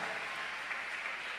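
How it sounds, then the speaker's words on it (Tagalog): A church congregation applauds during a service, a steady wash of clapping from many hands that fills the whole moment evenly. "Palakpakan po natin minsan ang ating mahal na Panginoon"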